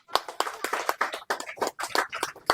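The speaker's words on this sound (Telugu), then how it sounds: "ఒకసారి అందరు క్లాప్స్ కొట్టాలండి." Clapping at a film teaser launch event, a short burst of uneven, fairly loud hand claps close by, with no voices over it.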